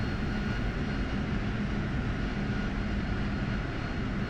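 A simulated jet engine spooling down toward idle in the DCS World flight game, a steady broadband roar with a low rumble, continuous and fairly loud, with no talk.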